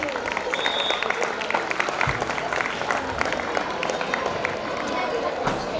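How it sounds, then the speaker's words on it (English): Applause from an audience at a school gathering, a steady dense wash of clapping held at an even level throughout, with murmured voices in the crowd beneath it. "Audience, please have some round of applause for them."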